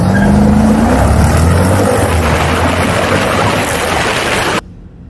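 A Jeep Grand Cherokee SRT launches hard, its engine roaring loudly up through the revs with a rising pitch, then the sound cuts off abruptly near the end.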